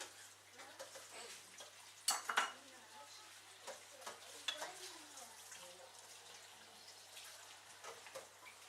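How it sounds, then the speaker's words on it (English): Marinated tofu chunks and vegetables stirred in a pan, with quiet scrapes and clinks of a utensil against the pan over a soft sizzle, plus a few sharper knocks early on. "you continue to stir it, that it gets a really good coating"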